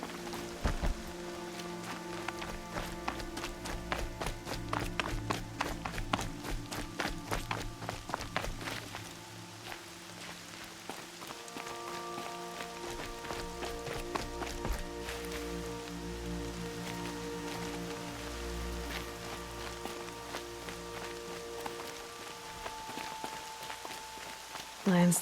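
Rain falls in Horizon Zero Dawn, a steady patter of drops on surfaces with footsteps moving through it and a voice speaking now and then.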